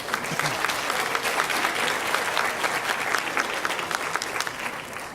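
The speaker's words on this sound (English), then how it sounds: "Let's first give our panel a round of applause." Sustained applause from a conference audience greeting a panel, a dense, even wash of clapping that holds steady throughout.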